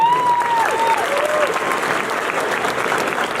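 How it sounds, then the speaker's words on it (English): A crowd of students at a high school unity rally applauds in a sustained, loud wash of clapping, with a few whoops or whistles rising over it at the start. "So round of applause to all of you."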